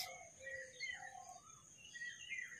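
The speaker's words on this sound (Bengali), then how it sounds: "পাখির ডাক শোনা যাচ্ছে" Birds chirp outdoors around six in the early morning, thin high tweets and short whistled calls repeating faintly in the distance over a quiet background.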